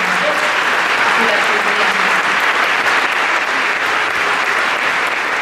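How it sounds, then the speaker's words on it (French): Sustained applause fills a hall at a secularism award ceremony in Paris, a steady dense clatter of clapping from a crowd with no break over several seconds. "oui, on peut l'applaudir"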